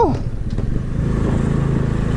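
A scooter engine hums steadily at close range while riding, a low continuous drone with a brief rising whine near the start.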